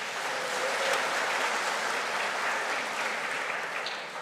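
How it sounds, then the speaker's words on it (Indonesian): A church congregation applauds during a Sunday service, a steady wash of clapping heard at a moderate distance and sustained evenly throughout. "Kita tepuk tangan dulu, tidak apa-apa."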